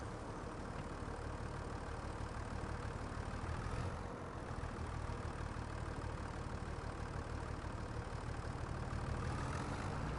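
A farm tractor engine idles in the Riverbend Springs farming video game, a steady low rumble that holds even and continuous throughout, moderately quiet, with no speech over it.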